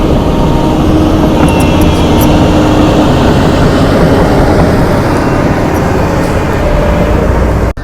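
A heavily loaded ten-wheeler truck strains up a laterite dirt road at an airport construction site, with an excavator helping push it. Its engine gives a loud, unbroken, close-up roar throughout.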